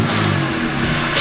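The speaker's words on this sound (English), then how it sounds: "Rev it." A BMW E46 with a straight pipe and a makeshift intake revs hard, a loud, raspy engine roar held steadily close by for about a second, with no voices.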